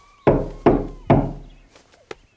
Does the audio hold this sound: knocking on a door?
yes